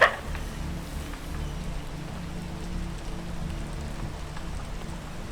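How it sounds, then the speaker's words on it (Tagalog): Steady rain pours as a soft, even hiss in the video game Peak, continuous and moderately faint with no voices over it. "umuulan pa eh"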